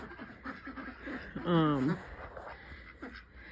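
A single nasal duck quack stands out briefly amid outdoor background noise, with faint talking around it.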